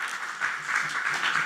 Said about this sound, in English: The applause should be louder.